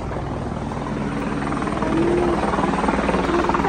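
A passenger helicopter at Chhomrong runs with a loud, steady rotor drone and rhythmic blade chop, holding constant close by throughout.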